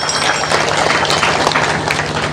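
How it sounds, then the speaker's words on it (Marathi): Audience clapping at a devotional kirtan gathering during a Harinam Saptah, a dense, steady wash of many hands, fairly loud and close, with no one talking. "त्याच्यासाठी आता जोरात टाळ्या वाजवा,"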